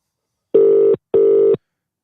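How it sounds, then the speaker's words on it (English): Two loud, steady telephone dialing tones, each lasting under half a second with a short gap between them, clean and close with no talking. "It's a phone call, Nolly."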